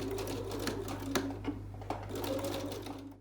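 A sewing machine stitches a fabric face mask with a filter pocket, its motor giving a steady, close whirring drone with faint needle ticks throughout and no voices.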